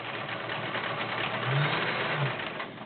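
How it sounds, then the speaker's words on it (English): Kenmore 1625 convertible sewing machine stitching stretch and decorative stitches, a steady close mechanical hum with fine rapid needle chatter running throughout without pause. "As you can see, it hums right along."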